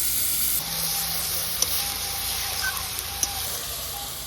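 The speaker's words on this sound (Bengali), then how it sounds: "প্রথমে দিয়ে দেবো আমি পেঁয়াজ পেস্টটা। পেঁয়াজের রসটা শুকানো অবধি একটুখানি কষিয়ে নেব ভালো করে।" Onion paste sizzling steadily in a pan while being sautéed, a soft continuous hiss with a few faint clicks of stirring and no talk.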